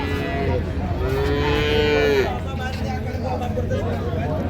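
Cows and calves at a busy village cattle market in Dinajpur, with one drawn-out moo rising clearly over a constant crowd babble and nearby talk.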